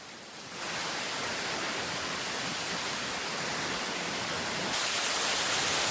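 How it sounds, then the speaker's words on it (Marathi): Outdoor waterfall roaring as a loud, dense, continuous rush of falling water, steady throughout and growing slightly louder near the end, with no voices. "चला तुम्हाला दाखवतोय हा वॉटरफॉल मागे दिसत असेल"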